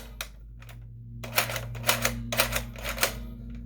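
A Dart Zone Pro MK3 toy blaster, unloaded and without batteries, gives a run of sharp plastic trigger clicks. A few spaced single clicks come first, then a quicker cluster of crisp snaps over a low steady hum.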